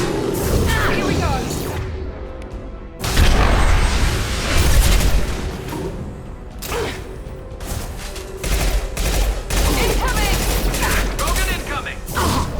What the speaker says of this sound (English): Incoming! Taking heavy fire!